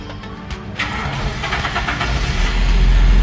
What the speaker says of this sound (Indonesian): Saatnya kita menghidupkan mesin.